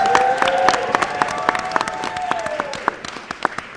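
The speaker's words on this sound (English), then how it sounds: "Join me in giving a round of applause for all of our speakers" Audience applause at a bill-signing press conference for a millionaires tax: a steady wash of clapping with sharp individual claps, running under a sustained tonal hum and fading slightly toward the end.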